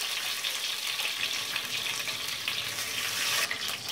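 Whole cloves, cardamom, cinnamon and bay leaves fry in hot oil for chicken rezala, giving a steady, fairly quiet crackling hiss that continues evenly throughout with no voices.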